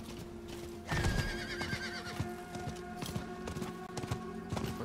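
A horse in the video game Diablo IV lets out a loud whinny, followed by a steady, repeating clip-clop of hooves that continues close and clear for several seconds, with no talking.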